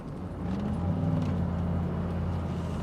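A Cadillac Allanté cruises at about 60 km/h around 1200 RPM, giving a steady low engine hum and road rumble from inside the cabin, moderately loud and without talking.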